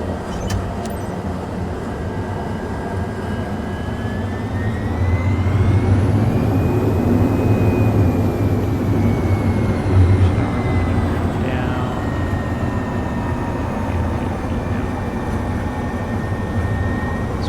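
An aircraft engine in Microsoft Flight Simulator 2024 steadily drones during taxi, then swells into a louder, rising takeoff roar with a whining tone sweeping upward. A brief voice is heard near the start.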